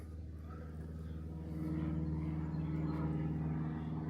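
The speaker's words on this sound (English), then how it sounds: "An airplane from the Brampton Caledon Flying Club." A light airplane from a flying club near Caledon passes overhead on a sunny day, a steady droning engine hum that swells slightly louder midway through, with no voices.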